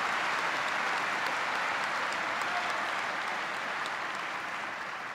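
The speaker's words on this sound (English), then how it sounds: "Let's give a round of applause to the United Student Body" Sustained, dense applause from a high school commencement audience in Ohio, steady and full for several seconds before easing slightly at the end, heard alone without voices.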